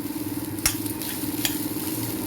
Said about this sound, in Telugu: ఇప్పుడు కొబ్బరిని జస్ట్ ఒక 1 మినిట్ అలా ఫ్రై చేసుకుంటామండి.